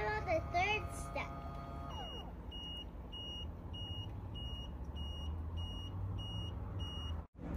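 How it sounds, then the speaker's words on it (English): A portable folding 3-in-1 washing machine with a heated dryer emits a steady series of short, evenly spaced electronic beeps, about one per second, over a low hum, with brief voices at the start. "I really like the little beeper."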